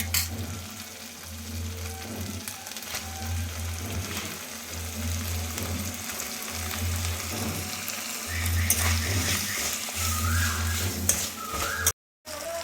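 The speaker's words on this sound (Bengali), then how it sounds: "এবার দিয়ে দেবো কুচিয়ে রাখা টমেটো" Chopped tomatoes hit a hot pan of fried ginger paste for a mixed vegetable dal, giving a steady close sizzle with scraping and stirring that runs throughout.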